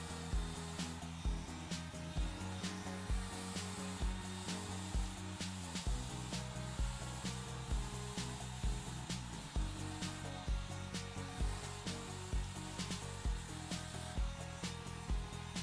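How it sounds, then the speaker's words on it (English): A handheld blow dryer dries hair over a brush, a quiet, even whirring hum broken by a regular run of soft brushing ticks. "you put the blow dryer behind the brush like this and you rock it out"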